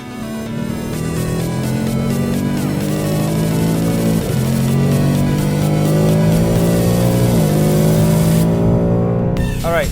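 A Ford Mustang GT with a 10-speed automatic accelerates hard on a race track, its loud engine climbing through rapid upshifts, each marked by a brief dip before the roar builds again.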